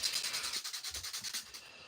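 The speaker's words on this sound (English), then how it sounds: "We're just sanding down a shield and have been for about 20 minutes." A miniature model shield is sanded by hand, giving a quick regular rasping rhythm of short scratchy strokes, close up and fairly quiet, about a dozen strokes in steady succession.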